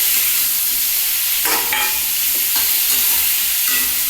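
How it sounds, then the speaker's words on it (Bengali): Ridge gourd and spices sautéing in a pan for a mustard-poppy seed dish, giving a steady close sizzle with faint stirring scrapes partway through. "আমি এটা দিয়ে একটু কষিয়ে নিচ্ছি মশলা ঝিঙেটাও কষিয়ে নিলাম"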